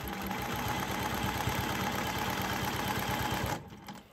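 A sewing machine quilting a sawtooth star quilt block runs in a steady, fast mechanical whir that stops abruptly near the end, close and continuous with no voices.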